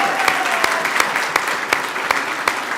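A small group at a neighborhood center grand opening claps steadily for a few seconds, individual claps distinct and evenly spread, moderately loud and close.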